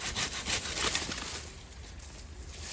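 A branch leaning outward from a garden yucca plant is cut off with a hand saw, giving close, steady rasping strokes that quicken early on and then grow quieter and smoother.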